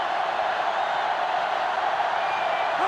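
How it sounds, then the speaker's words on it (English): A stadium crowd in NCAA Football 09 roars as a steady, broad wash of massed cheering and noise, holding at an even level throughout with no letup. "They're really struggling now as this crowd is going absolutely insane."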